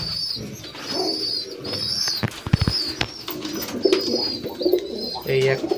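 Arshad line Madrasi pigeons coo in a loft, rhythmic throaty calls rising and falling near the listener, mixed with brief sharp knocks and a wing flutter, while someone talks over them.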